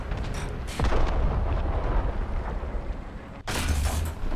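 Tank cannon shots in War Thunder, a deep booming blast near the start followed by a second sharp report about three seconds later, loud and close over rumbling battlefield ambience.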